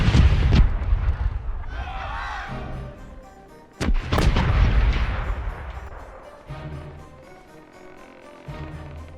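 Ship cannons in a video game fire heavy booming blasts, two big ones a few seconds apart, each followed by a rumbling tail and crackling debris.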